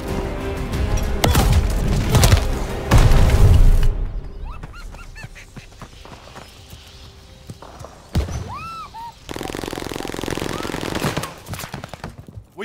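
Gunfire and a grenade blast in Call of Duty: Vanguard multiplayer, with loud rapid shots and heavy booms early, then quieter scattered battlefield sounds and further bursts later.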